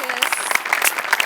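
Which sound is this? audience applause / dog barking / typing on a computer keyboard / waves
audience applause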